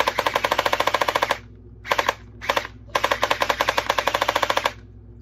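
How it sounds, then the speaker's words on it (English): An Aphronod MP5 gel blaster dry-fires with no gel balls loaded, rattling off rapid full-auto bursts: a long burst, two short ones, then another long burst, loud and close. "It don't got no Orbeez in it or nothing, but we shoot it. It sound good."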